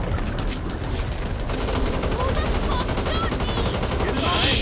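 Rapid gunfire from weapons fighting zombies in the video game Back 4 Blood, a dense continuous burst of shots running throughout with shouting players under it.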